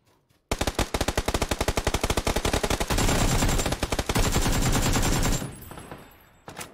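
Rapid automatic gunfire in the online shooter PUBG on Xbox One, a long loud burst of evenly spaced shots that merges into a continuous roar before cutting off, with no talking.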